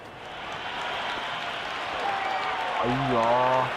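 A cricket crowd in the Cricket 26 video game keeps up a steady, distant roar of cheering that swells slightly, and a commentator's voice rises above it near the end.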